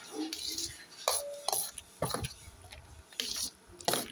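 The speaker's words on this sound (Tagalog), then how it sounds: "Haluin pa natin para ma-mix po yung gatas" Metal utensil clinking and scraping against a bowl or pot while milk is stirred into a sweet dessert with pili nuts, a few separate bursts of tapping close by, with no talk.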